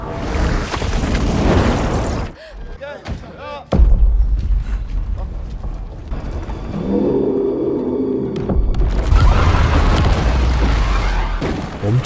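A newly opened mine explodes and collapses in a film scene: deep booming blasts and heavy low rumbling roll through, with a brief lull before another surge of crashing noise.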